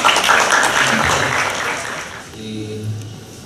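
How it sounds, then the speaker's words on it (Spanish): An audience applauds loudly at a legal lecture as a speaker is welcomed, with the clapping fading out over a few seconds. "Recibimos al doctor Julio Pozo Sánchez con fuertes aplausos."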